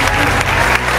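Audience applause at an annual company gathering, a dense burst of many hands clapping close and loud for about a second.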